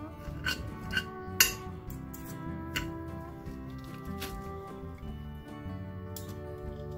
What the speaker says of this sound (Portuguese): eu vou desfiar esta carne agora